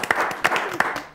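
Applause for contestants in a children's spelling competition: a short, busy burst of clapping with a few distinct sharp claps, lasting only about a second.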